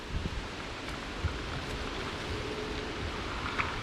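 Steady roaring wind buffets the microphone in the Wisconsin woods during a black bear hunt, a constant rushing noise with occasional low thumps and no voices.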